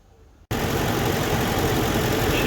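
A 2004 Ford F-150 with the 5.4 engine starts up after a brief quiet moment and settles into a loud, steady idle close by, with an exhaust manifold leak.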